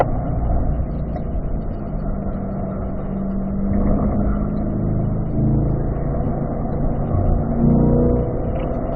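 A car on a racetrack during a track session runs toward turn 1, its engine droning steadily from inside the cabin for the whole stretch, swelling and easing slightly with no voices over it.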